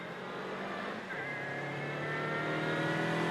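A 2.5 litre Riley Special races up the Prescott hill climb, its engine a steady loud roar at a distance with a sustained rising pitch as it accelerates.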